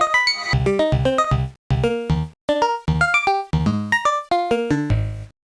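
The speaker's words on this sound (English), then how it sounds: "So this grain is from the EQ'd bowl sound." Granular synth grains built from an EQ'd bowl tone, near-sine with slight noise and no effects: a run of short, bright pitched blips stepping up and down in a quick melodic pattern, with a couple of brief gaps, loud and alone.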